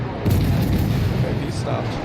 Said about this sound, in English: But these guns just keep firing.